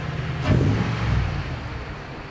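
A Toyota Tundra truck engine fitted with a new exhaust revs up briefly, a close mid-pitched roar that swells and then settles into a steady idle-like drone.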